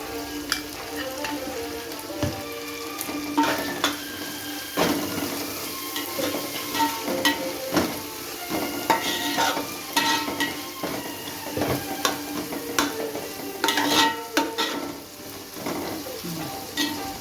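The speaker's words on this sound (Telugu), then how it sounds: "ఎందుకంటే ఉల్లిగడ్డ, పచ్చిమిరపకాయలు మంచిగా ఫ్రై కావాలి వీటికి." Onions and green chillies fry in a pan with a steady, close sizzle, punctuated by frequent scrapes and clinks of a utensil stirring against the metal throughout.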